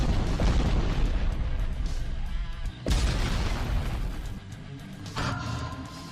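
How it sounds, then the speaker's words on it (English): Detonation of a 203mm artillery shell fired by a 2S7M Malka self-propelled gun, heavy rumbling blasts with a sharp loud impact partway through and a long roaring tail. "A tremendous impact and the detonation of nearly 20 kilograms of explosives create a powerful destruction effect."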